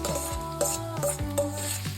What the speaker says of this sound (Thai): ตามต่อด้วยหมูสับที่เราคลุกเคล้าไว้นะครับ ลงไปผัดต่อได้เลยครับ